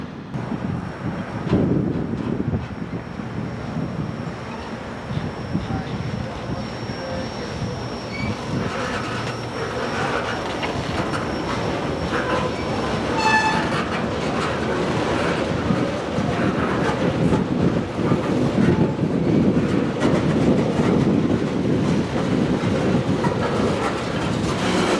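CSX freight train L787 rolls along the tracks in Miami, Florida, a steady close rumble of rail cars. Wheel squeal and a high metallic whine ride over it, with clacking from the wheels.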